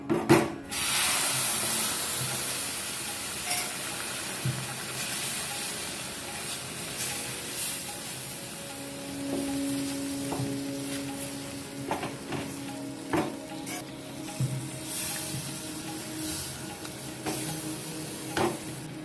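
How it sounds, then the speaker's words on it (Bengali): Milk poured into fried gram flour in a pan for modak sweets, bursting into a strong sizzling hiss that settles into steady frying, with stirring scrapes and clinks throughout, no speech. "আমি বেসনটা ভেজে নিয়েছি আমি এবার দুধ অ্যাড করব"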